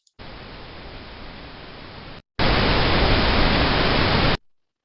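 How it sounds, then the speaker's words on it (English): Broadband pink noise test signal, steady hiss in two sustained bursts: a quieter one of about two seconds, then a brief gap, then a markedly louder one of similar length, with no voices. "Now this is pink noise"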